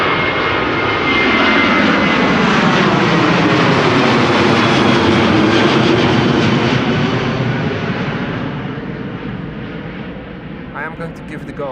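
A United Airlines Boeing 767-300 jet departs Amsterdam Schiphol bound for Houston, its engine roar swelling loud and close, then fading as it climbs away, with faint voices at the end.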